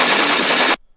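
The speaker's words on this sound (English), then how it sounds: "This is just a really fast modulation on a really distorted sound" Harsh, heavily distorted Reese-style bass synth patch from a Beast wavetable in Faceplant, fast modulation, no effects; a loud, dense, gritty roar for about three quarters of a second, then an abrupt cutoff to silence.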